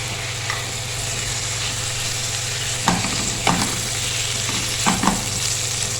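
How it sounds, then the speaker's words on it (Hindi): Chicken sizzling in a pan with ginger and garlic, a steady close frying hiss with a few sharper stir-and-spatter bursts partway through. "इसको हम कलर चेंज होने तक फ्राई करेंगे अदरक लहसुन के साथ"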